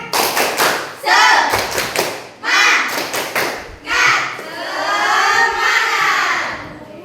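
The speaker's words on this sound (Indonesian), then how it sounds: "Ayo, tepuk semangat." Schoolchildren in a classroom doing a rhythmic spirit clap, loud clustered claps and thumps in patterned bursts, with children's voices chanting along between them.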